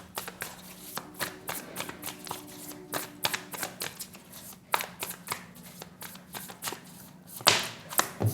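Tarot cards shuffled by hand before a reading, a close run of quick crisp riffles and taps with uneven rhythm and a sharper slap near the end.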